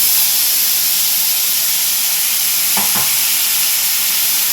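Spice paste hitting hot oil in a pan while cooking a Bengali-style green jackfruit curry (echor dalna): a steady, loud hiss of frying throughout, with a couple of brief sharper crackles near the end.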